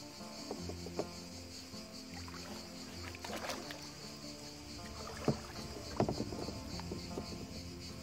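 A two-handed paddle dips into calm water during a campervan trip in France, giving soft, irregular splashes and drips over a faint outdoor background of insects and light wind, with a couple of sharper strokes near the end.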